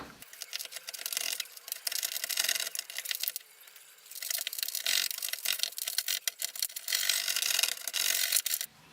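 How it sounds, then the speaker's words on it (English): Scraping gray ballast off model railroad track, a close, dry scratching rasp in repeated strokes with a short quieter pause partway through. "we'll just go ahead and hit that whole area with a little bit more scraping"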